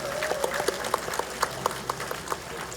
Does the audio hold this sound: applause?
yes